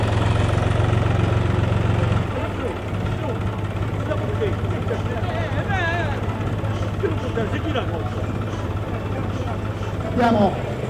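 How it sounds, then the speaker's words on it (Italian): Historic Fiat 450 DT tractor idling as it pulls a gift-laden cart in a parade, a steady low engine rumble, strongest in the first two seconds, then continuing beneath people talking nearby. "carro che Fernando porta pieno di donativi, con motore storico, un Fiat 450 DT."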